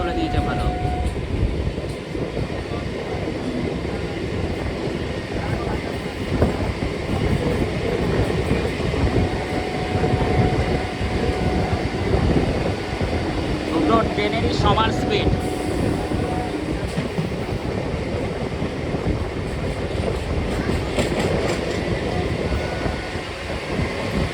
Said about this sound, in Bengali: দুটো ট্রেনের মধ্যে এবার রেস হবে আমাদের ট্রেনটা পিক আপ